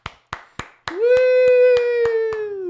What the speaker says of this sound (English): Let's all give Brad a round of applause.